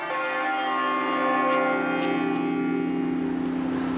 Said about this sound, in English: Today, the bells are rung every week by a group of bell ringers who work in the city.